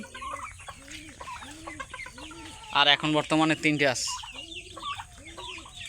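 A black-necked hen about to lay clucks in a low, repeated rhythm nearby, breaking into a louder run of squawking calls midway, while a person talks over the birds.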